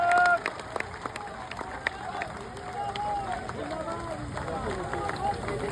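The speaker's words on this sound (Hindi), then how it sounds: "जोरदार ताली बजाइए।" A crowd at a Jan Suraaj party gathering applauds to welcome Manoj Bharti, appointed party president: steady clapping from many hands, moderately loud and continuous, with a voice speaking over it.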